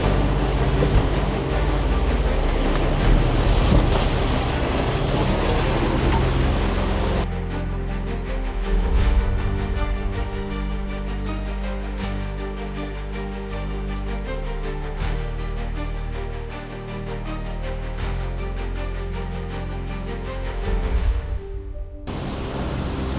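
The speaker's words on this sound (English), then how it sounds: "Now it's just messy, smaller waves in all different directions." Choppy, confused smaller waves slosh and wash around a sailboat crossing Queensland's Wide Bay Bar in a 3 m swell, with a steady broadband roar of water and wind close by and no voices.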